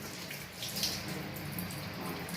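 Scallions are washed under a running kitchen tap for Jamaican flitters, a soft, steady hiss of flowing water, faint and close, with no talk.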